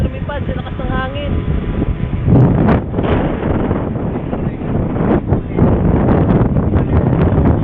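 Strong wind roars and buffets the microphone in loud, rushing gusts, while people talk over the blustery noise.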